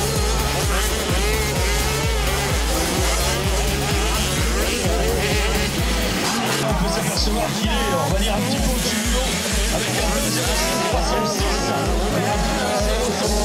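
Loud, continuous engine roar of racing motocross bikes, a dense pulsing rumble with shifting revs that persists throughout without pause.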